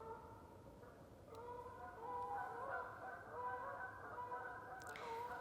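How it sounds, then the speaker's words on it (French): Geese honking repeatedly in a busy, overlapping chorus, steady and fairly close, with calls rising and falling throughout. "c'est des oies."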